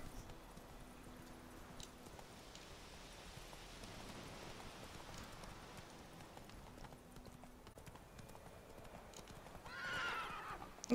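Geralt's horse Roach in The Witcher 3 clip-clops along at a steady gait for most of the stretch, fairly quiet under a low ambient wash, with a brief whinny rising near the end.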